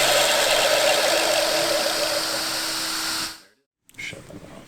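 A small RC motor whirs at high speed on a Mini Pro dyno, a loud, steady whine with a faint tonal hum that cuts off abruptly near the end, followed by a brief quieter rustle.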